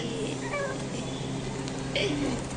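A cat meows several times, faint high wavering calls in a noisy indoor room over a steady background hum.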